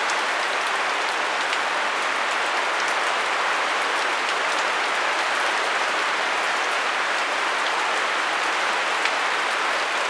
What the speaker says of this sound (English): the rain is early.